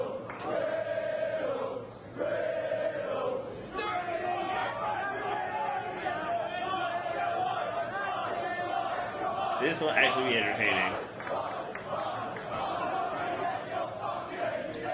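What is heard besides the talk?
wrestling crowd cheering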